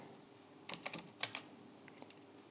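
Several quick keystrokes on a computer keyboard, soft close clicks in a short burst with a pause and a couple of faint taps after, nothing else in the background.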